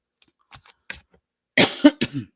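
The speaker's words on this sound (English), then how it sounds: "And still not COVID, although I'm coughing." A few light throat sounds, then a burst of harsh, loud coughs close by, three or so in quick succession.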